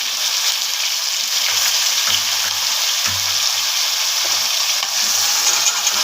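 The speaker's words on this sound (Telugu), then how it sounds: "ఇప్పుడు మనం ఇందులో టమాటా యాడ్ చేసుకోవాలి." Tomatoes cook with prawns for a curry in a pan, giving a steady bright sizzle throughout, with a few soft stirring knocks and scrapes near the mic.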